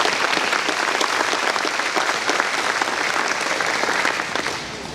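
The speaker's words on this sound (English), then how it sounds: "Please join me in giving them a round of applause." An audience at an agricultural awareness luncheon gives a round of applause, dense sustained clapping that carries on steadily before tapering off at the end.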